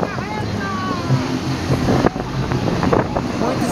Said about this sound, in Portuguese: Muitos carros passando na rua.